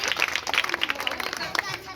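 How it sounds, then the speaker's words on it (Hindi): An audience of parents and children at a school claps after a children's street play about dowry, a short, scattered burst of applause mixed with crowd murmur and voices. "उसके लिए एक बार जोरदार तालियां"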